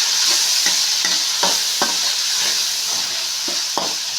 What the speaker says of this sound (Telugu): పసుపు వేసినాక ఒకసారి కలుపుకున్నాము.